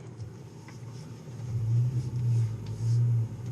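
A Ford Ranger pickup backs into a parking spot with a low, close engine rumble that swells in two revving surges.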